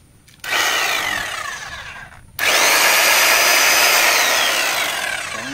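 A Bosch GSH500 Gen 2 hammer drill runs in two loud, close bursts of high mechanical whine with a rapid rattling hammer action, briefly stopping between them, with no talking.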